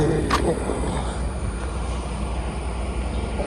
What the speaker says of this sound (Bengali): ট্রেন আসছে, ফাঁকা ইঞ্জিন আসছে একটা, শুধু খালি ইঞ্জিন।